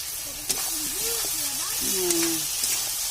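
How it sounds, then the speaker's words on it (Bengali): Large soya chunks sizzle and hiss as they fry in spice masala in a pan, a close steady frying noise with occasional stirring taps, while someone talks over it. "আর মা ভাজা করছে ভালো করে, একটু ভাজা করে নিচ্ছে মশলার মধ্যে।"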